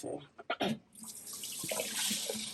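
Rice washed in water for Nigerian party jollof, quiet running water from a tap with a few soft splashes and handling sounds at the start, then a steady stream.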